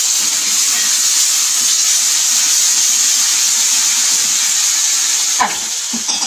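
Tomato puree fries in oil in a pan after onion and ginger-garlic paste for chole, making a loud, continuous hiss and sizzle with a brief clatter near the end.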